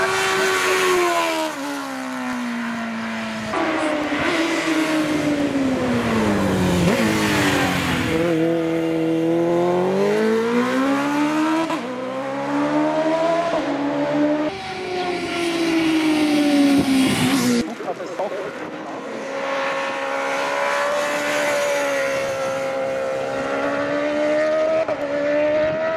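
A Ducati racing motorcycle charges up a hill-climb course, its engine howling loud and near through repeated rising and falling revs and gear changes, under an announcer's voice over the PA.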